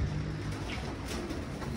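Racing pigeons cooing in a loft, soft low murmuring coos continuing steadily at close range with faint background noise.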